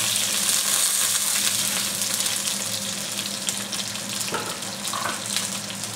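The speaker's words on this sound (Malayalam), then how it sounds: "ഇനിമേ നമ്മുടെ ഇഞ്ചിയും പച്ചമുളകും സവോളയും കരിയാപ്പിലും എല്ലാം കൂടെ നമുക്കങ്ങ് ഇടാം" Ginger, green chillies, onion and curry leaves sizzle steadily in a hot pan while a fish molly curry with king fish is being made, a continuous near hiss with a faint clink partway through.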